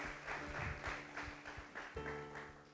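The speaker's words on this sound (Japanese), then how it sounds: "神様、大きな拍手しましょう。" Applause from a church congregation, a rhythmic, fairly faint pattern of claps repeating at a steady beat over a low sustained background tone.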